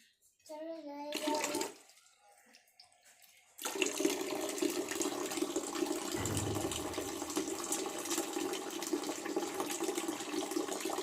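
Water splashes and pours over garden plants in a steady rushing stream after a brief earlier gush and a short lull, continuing to the end with faint voices in the background.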